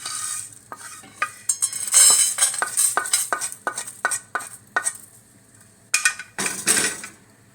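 Spices and green chilies roast in a pan for paneer kushka, with a spatula scraping and clinking in quick irregular strokes over a soft dry sizzle, close and alone.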